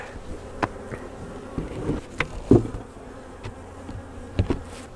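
Honey bees in a nuc hive buzz steadily in a low drone with occasional louder passes close by, alongside faint handling noises.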